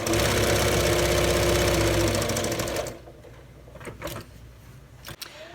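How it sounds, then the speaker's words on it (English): A sewing machine stitches apron straps with a steady, close mechanical whir for about three seconds, then stops, leaving faint clicks and small handling sounds. "I keep my needle down when I turn my corner"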